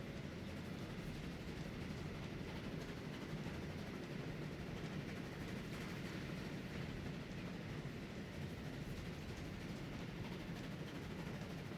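Trains run on a Transport Fever 2 rail network, giving a steady, fairly quiet rumble of rolling stock that holds level throughout with no voices.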